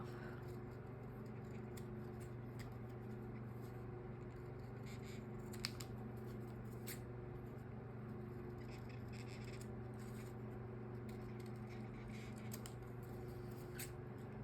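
Scissors cutting off a piece of material indoors, heard as faint, soft snipping and scraping over a steady low hum, with no talking.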